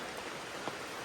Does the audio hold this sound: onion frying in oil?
no